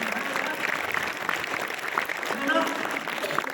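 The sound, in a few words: audience clapping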